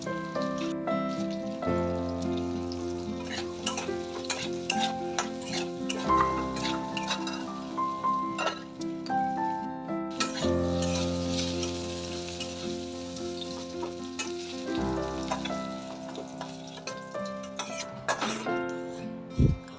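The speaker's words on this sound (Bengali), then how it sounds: "এবার আলুটাও একটু লাল হালকা লাল করে ভেজে নেবো" Potatoes crackle and sizzle in hot oil for a long stretch, with frequent sharp pops, spatters and occasional stirring clinks.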